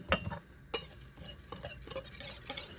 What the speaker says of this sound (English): We're going to give this a quick stir for it.